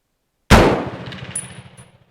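One loud, close rifle shot fired at a target, a sharp blast with a ringing tail that fades over about a second and a half, with no talk.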